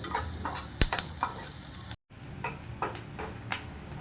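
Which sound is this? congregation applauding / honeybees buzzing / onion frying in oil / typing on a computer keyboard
onion frying in oil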